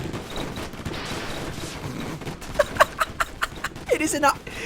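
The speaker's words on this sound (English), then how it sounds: "Now we're gonna get on the Gatling guns" Rapid bursts of Gatling gun fire in Airships: Conquer The Sky, loud sharp repeated shots in quick clusters, with a voice talking and exclaiming over the gunfire.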